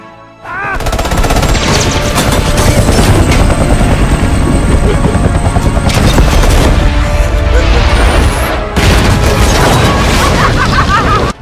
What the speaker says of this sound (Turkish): Tüm bunlar yaşanırken Joker iyice sapıtıp sağa sola ateş açmaya başlar. Namlusunda Bane'in kaçmakta olduğu helikopter de vardır.